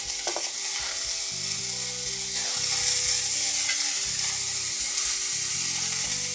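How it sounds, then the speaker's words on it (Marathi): Dried Bombay duck fish fry in a pan of oil with a loud, continuous, close sizzle and hiss, while a low rhythmic hum runs faintly underneath. "आता आपल्याला हे फ्राय करून घ्यायचे।"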